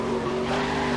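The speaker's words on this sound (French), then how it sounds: "Dérapage" Truck tyres skidding in the Grid racing game during a Pro Truck Challenge race, a steady loud engine drone with a sustained squeal, continuous through a brief moment.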